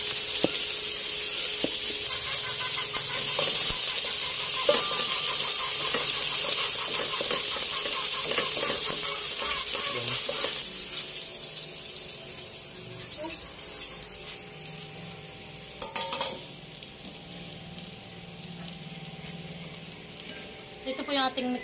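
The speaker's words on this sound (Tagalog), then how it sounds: "igigisa na natin yung ating bawang at sibuyas" Garlic and onion sautéing in a pan, a bright continuous sizzle with frequent stirring scrapes that drops to a quieter fry midway, followed by a few louder clatters and knocks.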